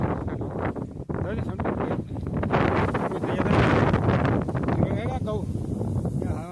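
Gusty storm wind buffets the microphone during a sudden rainstorm in farm country, loud rumbling blasts that rise and fall, with people talking over it.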